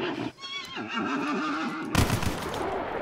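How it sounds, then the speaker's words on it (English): A dying horse in a video game whinnies repeatedly in strained, wavering cries, followed by a louder burst of rough, noisy sound near the end. "This is a horse, dying horse, or half-dead horse."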